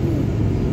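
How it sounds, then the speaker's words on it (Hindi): A car passing on a road gives a brief, loud low rumble and whir, steady across the short moment with no voices. "गाड़ी पार हो रहा है ना बेटू"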